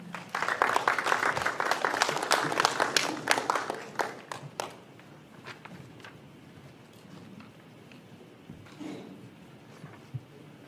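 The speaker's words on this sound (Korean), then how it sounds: "큰 박수로 맞이해 주시기 바랍니다" An audience at a Korean policy forum on rural village communities gives dense, hearty applause to welcome a speaker for about four seconds, then it fades into quiet room noise.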